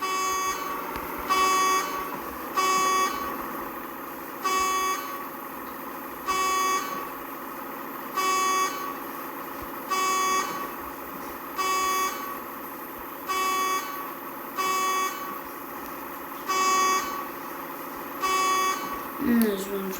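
A car horn in a car simulator video game, sounding in a steady series of short, evenly spaced honks over a quiet engine hum, with someone talking over it.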